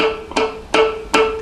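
A sustained guitar note rings while three sharp percussive muted dead-note clicks land at a steady pace over it, close and fairly loud.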